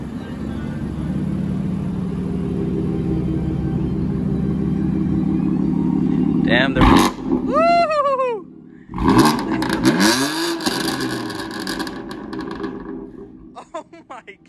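BMW F80 M3 with a stage 2 exhaust and stock mufflers at a rooftop meet, a low idle drone building before sharp, loud revs that crackle and fall away, with people talking and reacting between the blips.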